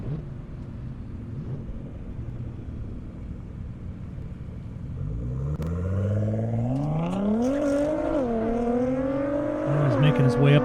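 A GTR race car at an airstrip drag event, its engine rising from a low rumble into loud revving that climbs in pitch through rapid shifts, with someone talking over the start.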